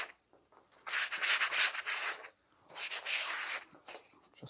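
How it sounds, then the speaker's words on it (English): Light sanding along the edges of a card model garden fence for a model railway diorama: two bursts of soft, close scratchy rubbing, each about a second and a half long, with a short pause between them. "The thing to do now is just give it a very light sand just to remove any loose bits of card."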